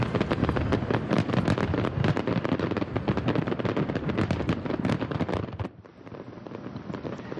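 The Ford Fireworks display over the Detroit River, in its 67th edition, fills the air with dense, loud crackling and rapid bursts that overlap nonstop, then drops briefly to a quieter crackle near the end.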